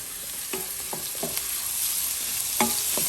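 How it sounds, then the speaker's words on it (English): Onion frying in a pan with green chili and rye sizzles steadily over medium heat, broken by several scraping stirs at irregular intervals, close and fairly loud with no voices. "we fried the rye and the green chili for about 2 minutes on medium heat, and then we added the onion right now"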